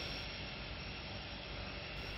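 A small-bodied pioneer-route airplane in Mimika, Papua, drones steadily with a constant engine roar and broad hiss, loud and unbroken throughout, with no talk.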